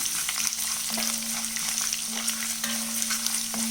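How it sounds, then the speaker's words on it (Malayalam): Curry leaves frying in hot oil for rava upma: a loud, continuous crackling sizzle with a steady bright hiss and a faint tonal hum underneath, and no voices. "കറിവേപ്പില ഇട്ട് കൊടുക്കാം. ഒന്ന് മൂത്ത് വരട്ടെ."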